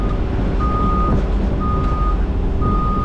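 A Cat 336 excavator walking off a trailer, its loud diesel rumble steady and close while high reversing beeps repeat at a regular rhythm over it.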